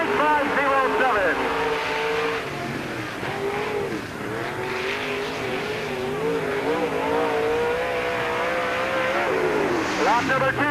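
Race car on a qualifying lap at Peoria Speedway in 1997, its engine wailing and rising and falling through the corners, loud and steady the whole time while an announcer talks over it.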